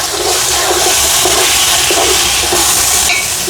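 Tomatoes sautéing in a pan while cooking shrimp biryani, a loud, steady sizzling hiss with no talking.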